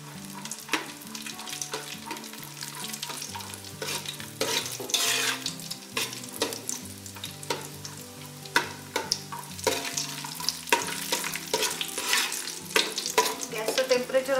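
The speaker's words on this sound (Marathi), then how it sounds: "पटकन फ्राय होतात ड्रायफ्रुट्स, त्याच्यामुळे लक्ष देऊन फ्राय करायचे आहेत" Dry fruits such as cashews fry in a pan of oil and ghee for a mutton biryani, giving a steady close sizzle with repeated clinks and scrapes of a spoon stirring against the pan throughout.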